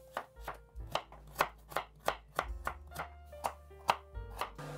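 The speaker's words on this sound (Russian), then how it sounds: "Я порежу морковь небольшими брусочками." A knife chops carrots into small sticks on a cutting board, about a dozen crisp, evenly spaced strikes close by.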